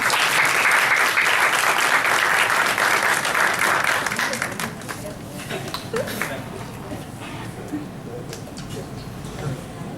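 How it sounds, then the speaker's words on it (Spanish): An audience at an academic colloquium applauds loudly for about four seconds, then the clapping thins and fades into scattered claps and room noise. "Un aplauso para ella, por favor."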